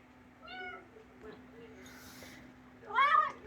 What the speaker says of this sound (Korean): 뒤 모통 안에서 뭐가 야옹야옹 하는 거예요